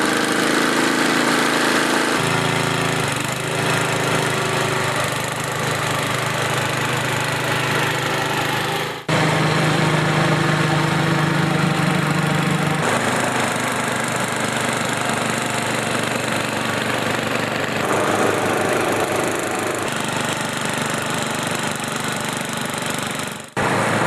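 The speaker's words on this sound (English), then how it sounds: "So I just did my whole driveway with that small snow blower." A small 4HP Noma snow blower runs as it clears a driveway, a loud, steady small-engine drone with a rattling knock, close by and continuous, shifting in tone a few times as the load changes.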